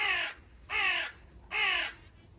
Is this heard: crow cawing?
yes